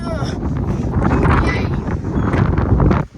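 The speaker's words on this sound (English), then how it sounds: "Yeah, it's so windy." Strong beach wind buffeting the microphone in loud rumbling gusts, with faint voices underneath.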